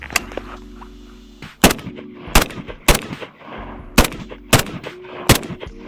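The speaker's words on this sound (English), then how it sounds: "I'm gonna move and shoot." A SIG Spear .308 rifle fired while the shooter moves, six loud, sharp shots spaced roughly half a second to a second apart, each with a short echoing tail outdoors, no talk.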